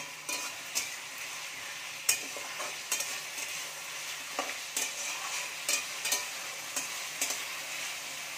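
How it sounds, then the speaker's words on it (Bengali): Chilli paneer sizzles in a pan over a high gas flame while a spatula stirs it, with sharp scraping clicks at irregular intervals over a steady low frying hiss. "হালকা করে নাড়াচাড়া করে নেব। গ্যাসের ফ্লেমটা আমি এখন হাই করে দেব"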